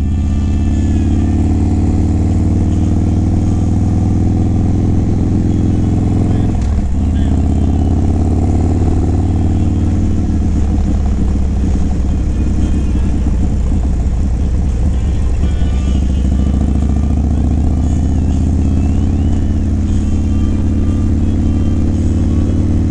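Harley-Davidson Low Rider S 117 motorcycle riding on the road, a loud continuous engine rumble with wind noise close up, rising and falling slightly with throttle changes.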